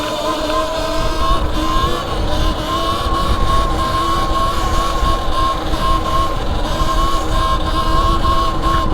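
A Talaria X Pro electric dirt bike with dirt wheels rides hard, a steady high motor whine with tonal hum over rough tire and wind rumble, continuous and close throughout.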